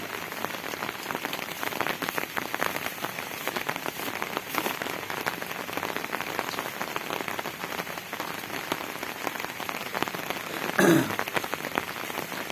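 Steady rain falls on a garden of chrysanthemum plants, a dense continuous patter of drops on leaves and ground with one brief louder splash near the end, no voices.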